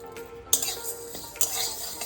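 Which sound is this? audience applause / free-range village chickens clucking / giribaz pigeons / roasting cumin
roasting cumin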